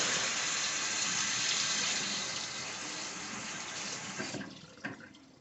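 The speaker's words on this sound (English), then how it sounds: "rinse the shrimp in cold water" Cold tap water runs steadily and loudly for several seconds, with the splashing shifting and breaking up near the end as shrimp are rinsed under the stream.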